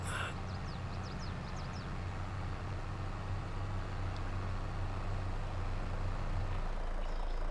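In Farming Simulator 22, a tractor engine strains under a heavy load of corn, producing a steady low rumbling drone that holds throughout, with a few faint high chirps early on.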